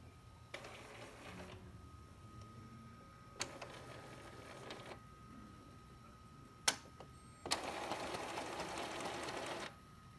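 An Epson L120 inkjet printer runs its cleaning cycle in several bursts of whirring and buzzing motor noise, separated by quieter pauses and a few sharp clicks, faint and close by.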